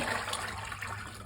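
Rinse water is swirled and then poured out of milking equipment, making a brief, steady watery rush and splash close by with no talking.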